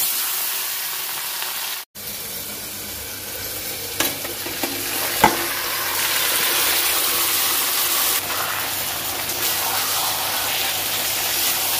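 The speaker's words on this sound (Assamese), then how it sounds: "তেল মাৰা হৈ গৈছে শুকান জলকীয়া আৰু নহৰু দিছোঁ" Dried chillies and garlic fry in hot oil as part of a home meal that also includes fish, giving a steady, close hiss broken by a few soft stirring knocks, with no talk.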